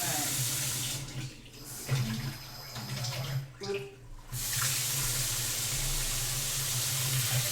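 Cold water runs from a kitchen tap in a steady splashing stream that briefly changes tone and dips in the middle before continuing strongly, with faint voices in the background.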